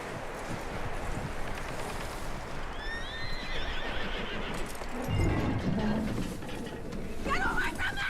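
Horse whinnying and neighing in Red Dead Redemption 2, with hoof clip-clops and rustling, heard close over a steady wash of game ambience while people talk.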